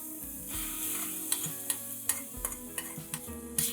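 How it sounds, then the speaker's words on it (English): Spinach being stirred into a pot of dal palak spinach-lentil soup with tadka, giving soft scraping stirs and a series of sharp spoon taps against the pot over a low sizzle. "Add the spinach into the soup mixture."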